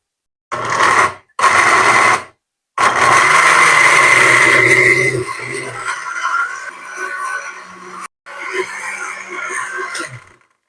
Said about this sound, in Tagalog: Blender na natin guys.